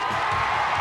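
A large arena crowd at London's Millennium Dome cheers for Miss India Priyanka Chopra at the Miss World 2000 pageant, a steady, distant roar of voices and whoops.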